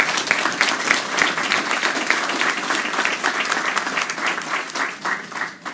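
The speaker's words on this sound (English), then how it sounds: "you deserve a big round of applause." Sustained, dense applause from a large crowd at a new building's dedication, steady and loud throughout with no voices standing out.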